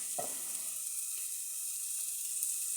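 Onions fry in a little oil in a pan, giving a close, steady sizzle, with a brief scrape of stirring at the start and faint taps after.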